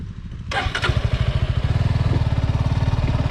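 A Suzuki Gixxer motorcycle engine catches and settles into a steady, rapid idle thump, loud and close, running alone without speech.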